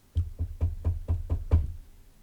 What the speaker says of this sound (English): So knock, knock.